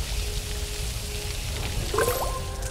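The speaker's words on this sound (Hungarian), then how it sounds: "Na, ide töltünk egy kis vizet." Water being poured to put out a fire in the Lego Harry Potter video game, a steady splashing pour running the whole time, with a short burst of rising bubbly tones near the end.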